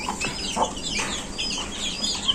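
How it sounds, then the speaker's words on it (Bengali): An old-breed pigeon coos softly in a coop, low throaty murmurs rising and falling amid faint rustling, with no talking. "আর এটা হলো আমার পুরনো জাতের কবুতর"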